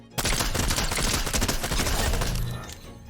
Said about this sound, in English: now let's do a 10 meter hip fire test